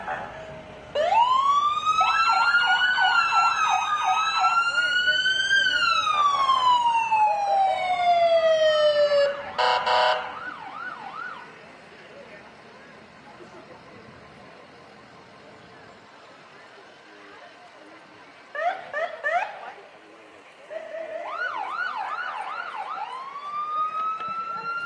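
A loud ambulance siren wails up and down nearby during a Fourth of July parade, switches to a rapid yelp, then fades before short yelping bursts return over a steady engine rumble.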